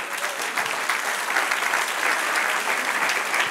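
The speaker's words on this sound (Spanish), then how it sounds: "Dale un aplauso" Church congregation applauding during a Spanish-language sermon, a steady, dense wash of clapping held at an even level throughout with no talk over it.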